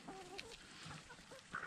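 A Naked Neck meat chicken clucking softly in short, low calls, with a brief higher squawk near the end, fairly quiet and close.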